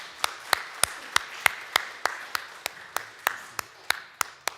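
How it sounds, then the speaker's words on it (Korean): Claps ring out in a church during Sunday worship, about a dozen crisp, evenly spaced beats in a steady rhythm. They are fairly faint, as if from a few hands in a reverberant room. "우리 서로 이제 감사의 박수하면 참 좋겠어요"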